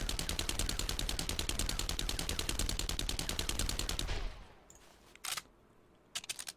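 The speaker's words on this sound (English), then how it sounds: "The SMG uses 10mm, and it is a rapid-firing" A submachine gun firing 10mm rounds in the video game 7 Days to Die, loud and rapid: a steady stream of evenly spaced shots for about four seconds, then stopping, followed by a few brief, sharp bursts of noise.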